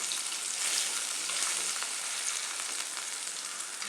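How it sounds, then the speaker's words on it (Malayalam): Salted chopped onions fry in a pan and are stirred together, giving a constant, even sizzle with faint scraping, close and uninterrupted, with no voices. "ഇനി ഇതെല്ലാം കൂടെ ഒരുമിച്ച് ഇളക്കി യോജിപ്പിക്കാം"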